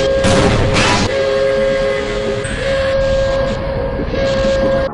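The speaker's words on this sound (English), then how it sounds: "This automated train is provided for the security and convenience of the Black Mesa" Automated train in Black Mesa rolling along steadily, a continuous loud rumble with a sustained tonal hum, plus a couple of bright bursts early on.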